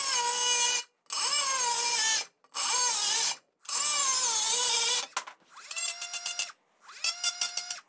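A Milwaukee power tool cuts curves in tile, a loud close whining buzz in several bursts separated by short pauses, then shorter, choppier pulses toward the end.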